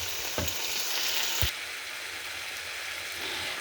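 Carrots and courgette sizzle in a hot stir fry pan, a close, steady frying crackle with a couple of scraping stir sounds.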